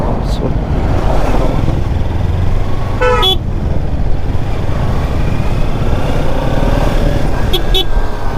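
Heavy road traffic on a Thekkady route during a winter group ride on Ninja 300 motorcycles, a constant engine drone with short horn toots standing out, loud and close, while a voice talks over it.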